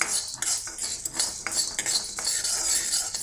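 Dry ingredients being roasted in a pan for an instant tamarind pulihora powder, with a metal spoon scraping and clinking against the pan in quick, irregular strokes, close and fairly loud, with no talking.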